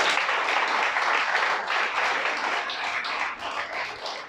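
A congregation at a church sermon claps loudly and densely for several seconds as one continuous wash of applause, fading a little toward the end.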